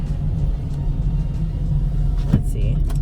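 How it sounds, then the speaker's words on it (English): A struggling car engine gives off a low, steady rumble heard from inside the cabin, holding at a constant drone, with a brief knock partway through and no speech over it. "I don't know if you can hear my car right now."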